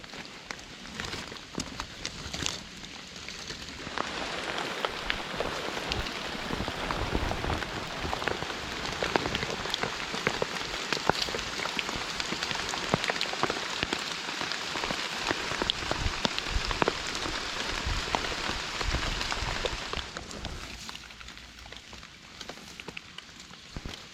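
Steady rain falls for most of the stretch, a dense hiss of drops on surfaces during mushroom foraging outdoors, easing off near the end.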